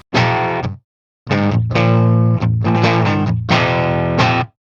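Electric guitar through a Butcher amp's low-gain input with the Fuzz Imp SENDER distortion pedal switched off, playing clean chords in three loud, ringing bursts separated by a short pause, with no voices.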